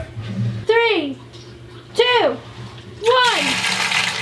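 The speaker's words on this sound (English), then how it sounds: "while I turn the hose on" A garden hose runs water into a native freshwater fish aquarium in three rushing bursts, the last one steadier and continuing, with people talking over it.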